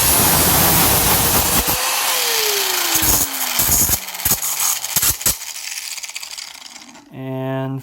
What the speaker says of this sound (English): I'm going to cheat and use a cutting wheel on an angle grinder